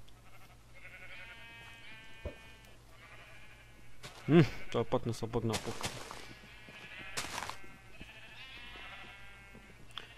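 Sheep bleat in the Minecraft video game, a few short wavering calls heard moderately under ongoing talk, with other game noises around them.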